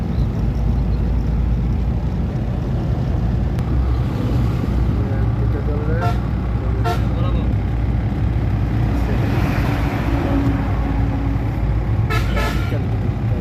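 A car on a highway during a driving lesson gives a loud, unbroken drone of engine and road noise, with a few brief horn toots from nearby traffic.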